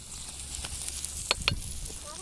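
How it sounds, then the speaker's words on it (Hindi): Spice-marinated fish sizzles on a charcoal-heated karahi at an outdoor mountain barbecue in Makkah, a faint, steady hiss broken by a few sharp crackling pops, with no voices. "अब हम फ़िश तैयार करेंगे इसके ऊपर अपनी"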